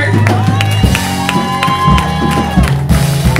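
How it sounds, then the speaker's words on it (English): A church congregation applauds and cheers with a loud, continuous crowd roar and scattered whoops, backed by sustained organ-like musical tones. "y'all give a big round of applause for the Lord God"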